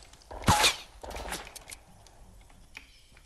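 Gunfire in Fortnite Battle Royale: one loud, close shot followed by a few quicker, fainter cracks and a distant pop against a quiet background.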